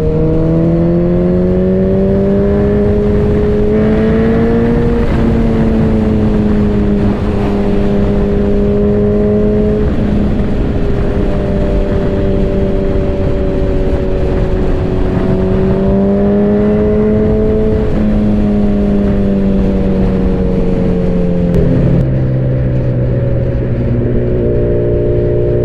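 A Suzuki Hayabusa motorcycle ridden through winter traffic gives a steady, loud engine drone, held close at a constant pitch, with small rises and dips in revs and a downshift near the end.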